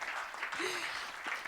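A workshop audience at the Zermatt Summit applauds, a steady wash of clapping held at a moderate level for a moment, with a faint voice underneath.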